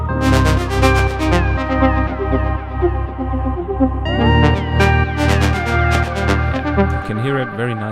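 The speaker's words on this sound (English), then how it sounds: "And if we also bring in the MOOGs" In an electronic music mix, layered Moog synthesizer tones with gliding pitches blend with piano over a loud, throbbing sustained bass, playing continuously as a full, dense arrangement.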